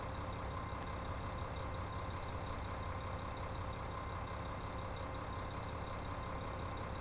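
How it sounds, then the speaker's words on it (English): A modern 150-horsepower tractor in Farming Simulator 15 runs with a constant, droning engine hum at an even, steady level with no variation and no voices over it. "I feel like the tractor's operating faster for sure."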